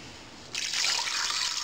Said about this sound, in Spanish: Vamos a agregar agua.